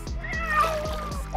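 Pet cat giving a drawn-out, wavering meow, close and fairly loud, with faint trickling water behind it and no voices.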